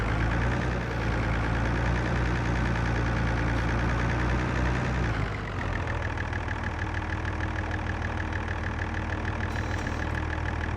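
A tractor engine in Farming Simulator 22 drones steadily at idle and then drops into a lower, rougher running note partway through, loud and close with no voices.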